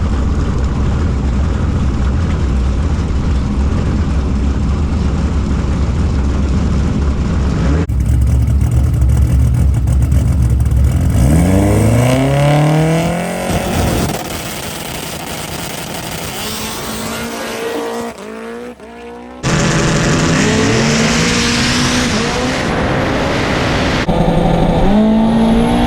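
A no-prep drag racing car with a loud engine roars through a run, revving in rising sweeps with sharp gear changes and a brief cutoff before the engine comes back in strongly. The car is near and there is no talk.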